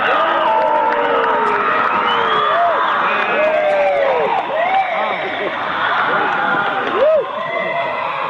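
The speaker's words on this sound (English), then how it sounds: "When that ceremony ends, they all start to cheer and yell." A large crowd cheers and yells together just after a ritual ceremony at an altar before a big owl statue, a steady dense roar with whoops and shouted voices rising and falling throughout.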